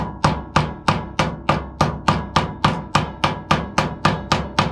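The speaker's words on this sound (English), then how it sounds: "I'm just going to use the end of a hammer here just to get a better feel of it" Steady, evenly spaced hammer taps driving a bearing into a DT Swiss R470 rear bicycle wheel hub, about three per second, loud and close with no talking.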